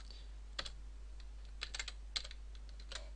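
Code being typed on a computer keyboard in a C# programming tutorial, scattered quiet key clicks in small bursts over a faint steady hum, no voices.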